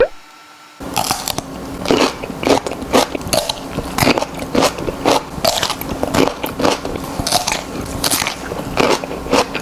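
Snack cucumber topped with mayonnaise being eaten close up: a sharp first bite followed by rapid, repeated crisp crunches and chewing, loud and near, with no voices.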